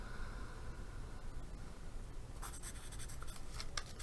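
Pencil scratching across paper in close ASMR-style recording, steady soft scribbling that turns into brisker, crisper strokes partway through, alone with no talk.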